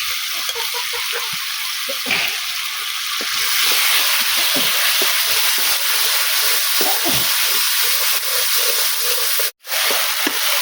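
Ground spice paste frying in oil in a pan for a Bengali drumstick and lentil-dumpling vegetable curry, a steady loud sizzle throughout with scattered stirring scrapes and a brief break near the end.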